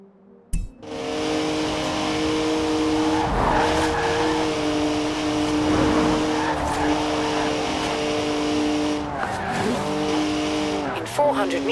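A 3-litre twin-turbo straight-six car drifts in Forza Horizon 4, engine droning loudly and steadily with squealing tires sliding sideways, under a voiceover.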